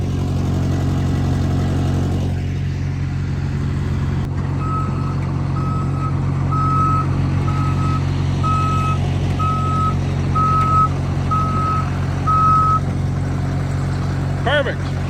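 A dump truck reverses at a loading site with a heavy diesel engine rumbling steadily, while a backup alarm beeps in an even, repeating rhythm for about eight seconds, loud and close.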